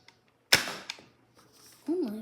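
Nerf toy blaster fires a single sharp, loud crack, followed by a faint click, with a brief voice rising in exclamation just after.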